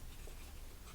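Detailing scissors cut paper Christmas ephemera for a file folder project, giving close, steady rustling and scraping that fills the whole second.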